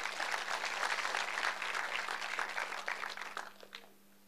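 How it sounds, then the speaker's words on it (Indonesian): Church congregation breaking into applause, a dense wash of many hands clapping over a steady electrical hum, thinning out and fading near the end. "Tepuk tangan yang dahsyat."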